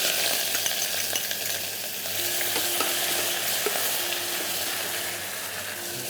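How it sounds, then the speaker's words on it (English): Onions frying in a pan for Andhra mutton, a steady close sizzle and bubbling with light stirring clatter and a faint hum underneath, no talking. "we'll be cooking the onions till golden brown stage"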